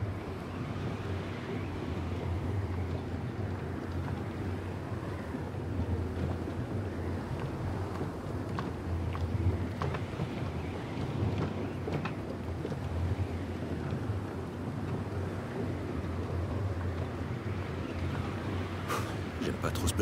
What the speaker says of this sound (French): J'aime pas trop ce petit vent, je dois dire.